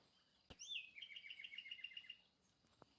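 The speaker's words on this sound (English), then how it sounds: "Listen to those birdies sing." A single bird sings outdoors, a faint, distant trilled phrase of rapid repeated chirps lasting about a second and a half against quiet background.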